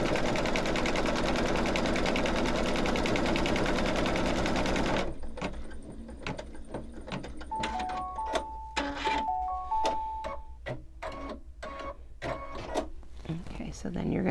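An embroidery machine stitching fabric down on a snowman mug rug whirs densely for about five seconds, then stops, followed by a person talking and a few short electronic beeps.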